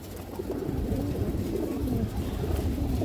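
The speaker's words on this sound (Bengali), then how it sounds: "এই দেখেন দর্শক পুরো ফুল ডাউন সবের কবুতর এবং অনেক চঞ্চল একটা কবুতর" Pigeons of several fancy breeds coo together in a loft, a dense, steady murmur of overlapping low coos that fills the whole stretch at close range.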